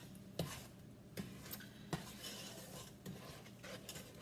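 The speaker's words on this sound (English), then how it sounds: "So you're going to stir this constantly until it comes to a rolling boil." A spoon stirs peanut butter fudge mixture in a pot on the heat, scraping and knocking against the sides in a loose repeating rhythm, close and fairly quiet with a faint sizzle underneath.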